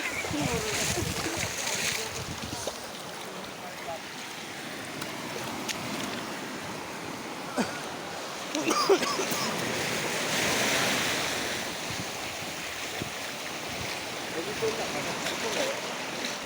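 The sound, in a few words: sea waves at Kuakata beach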